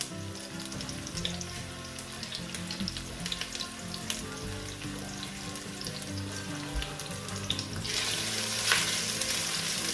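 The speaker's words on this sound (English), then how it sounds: "Okay, you saute that up a little." Food sautéing in a pan for a cabbage stew, a steady close sizzle running throughout with faint clinks and stirring, growing a little louder and hissier toward the end, with no talking.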